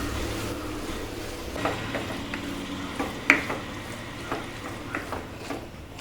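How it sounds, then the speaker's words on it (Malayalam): Okra is stirred into a sizzling pan of bhindi masala, a Punjabi dish, with a continuous frying hiss broken by several scraping stirs and one sharp clink of the utensil. "വെണ്ടക്കായ ഇടുക, നല്ലപോലെ മിക്സ് ചെയ്യുക."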